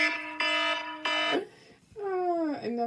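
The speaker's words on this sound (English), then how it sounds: "Another alarm going off." A household alarm sounds in a craft room, three loud repeating electronic beeps with a wavering, rising pitch much like a fire alarm, close and clear.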